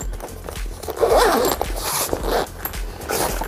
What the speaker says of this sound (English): it has dual zipper closure,